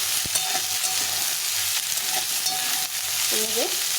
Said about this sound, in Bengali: আলুটাকে একটু ভেজে দেবো পেঁয়াজের সঙ্গে